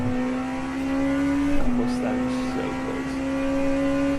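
A BMW race car engine in a sim racing game, a steady high-revving drone held near constant pitch that dips briefly at a gear change before carrying on, close and prominent.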